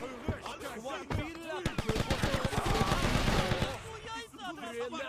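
Rapid bursts of gunfire in the video game GTA Vice City crackle in quick succession, loudest in the middle, with voices talking over and around the shots.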